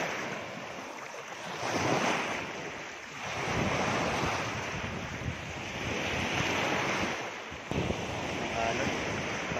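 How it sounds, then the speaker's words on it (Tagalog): Strong ocean waves surge and wash onto the beach at a resort in Tanza, Cavite. The roar swells and ebbs in long rolling cycles, close and loud, with wind buffeting the microphone. "Alon. Lakas ang alon."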